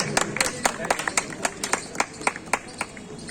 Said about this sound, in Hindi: जोरदार तालियां स्वागत कीजिए